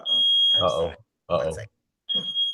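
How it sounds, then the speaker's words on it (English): A household smoke alarm sounds a sustained high electronic tone that pauses and returns, heard clearly under a person talking between the beeps. "Fire alarm or something burning."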